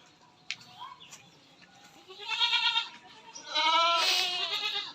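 A Totapuri cross goat, about seven months old, bleats loudly on a goat farm: a soft early call, then two long strong wavering bleats close by.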